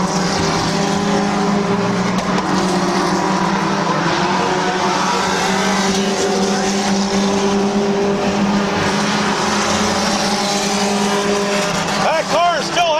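Race cars roar around the oval at Midvale Speedway in a loud, continuous pack, engines droning steadily with a brief revving swell near the end, while an announcer talks over the racing.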